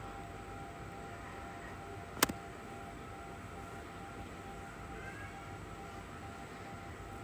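A metro train ride carries a steady, even rumble and hum of the moving carriage, with one sharp click partway through and no talking.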